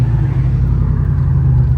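Ford SVT Cobra on its first drive after being rebuilt, a loud, close, steady low engine rumble from inside the car with no pauses.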